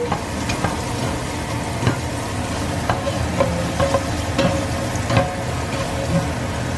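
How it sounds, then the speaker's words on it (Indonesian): Soup spice paste with pepper sautés in a pan, giving a steady close sizzle with scattered scrapes and taps of stirring throughout, and no talk. "So, kita tumis hingga harum."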